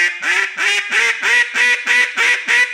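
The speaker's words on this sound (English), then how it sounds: "Only change the pitch, the highness and lowness of the sound of your quack." Eight brisk, evenly timed quacks from a duck call, close and loud, stepping upward in pitch like a rising scale at a constant volume, with no voices.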